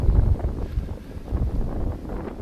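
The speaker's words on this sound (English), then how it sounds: "It's a terrible day, very windy" Gusty wind buffets the microphone in low, uneven rumbling bursts at a car park at Aurora Valley Tracking Station on a cold day, rising and falling with no other clear sound.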